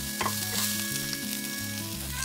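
Onion sizzles and fries in a pan while cooking balbacua, a steady crackling hiss over a low hum with a few stirring scrapes.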